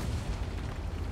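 A missed shot from an enemy Challenger tank in World of Tanks on the El Halluf map lands as a brief, dull, rumbling boom, heavy in the low end and heard alone.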